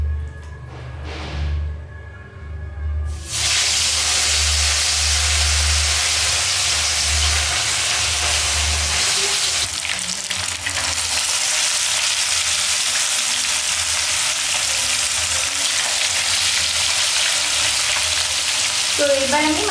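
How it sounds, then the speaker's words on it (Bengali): Rohu fish pieces dropped into hot oil in a wok burst into a loud, dense, continuous sizzle after a quieter opening, holding steady and close for the rest of the stretch with faint clatter. "এবার আমি মাছগুলো ভালো করে ফ্রাই করে তুলে নেব"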